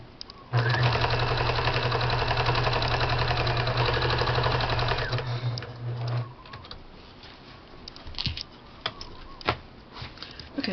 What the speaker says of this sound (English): I'm going to just do a straight stitch across.